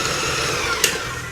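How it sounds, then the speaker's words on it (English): Vanilla bean paste being beaten into butter and sugar for chocolate chip cookie dough, heard as a steady, loud mechanical mixer whir running continuously close by, with a brief clink partway through. "I'm going to mix this now into the butter and sugar"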